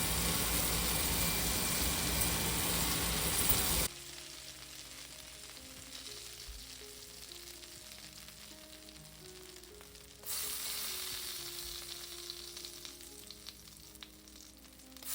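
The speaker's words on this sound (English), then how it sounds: "then we are going to saute the garlic again" Garlic sautéing in a pan, a dense close sizzle that drops into a quieter stretch with a low hum and tonal background noise, then the loud sizzle returns, with no talking.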